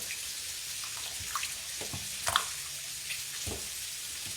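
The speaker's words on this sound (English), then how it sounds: "We're going to give this a good stir." Spoon stirring seasoning paste into a pot of New Year's soup, soft wet scraping and light clinks scattered over a steady hiss, close and fairly quiet.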